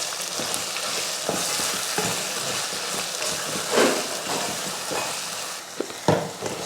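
Okra and ground masala paste sautéing in oil, a steady frying sizzle with repeated scraping stir strokes and occasional louder clacks of the spoon against the pan.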